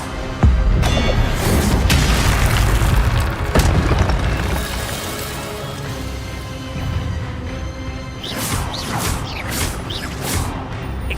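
Expelliarmus spell impacts in the video game Hogwarts Legacy, heavy booming hits and crashes up close, with a dense, loud rumble early on and scattered whooshing impacts later.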